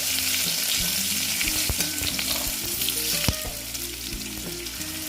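Potatoes frying in a pan for kolmi greens give a loud, close, continuous sizzle, punctuated by a few sharp knocks and scrapes of a spatula stirring them, with no talking.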